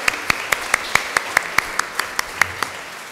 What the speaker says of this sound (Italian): Quindi benvenute con un applauso direi a tutte, a tutti.